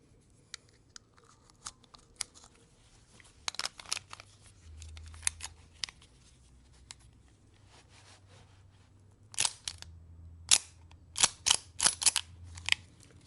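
A Ruger LCP .380 pistol's slide is worked by hand, producing a series of sharp metallic clicks and clacks, sparse at first and then a quick close cluster near the end.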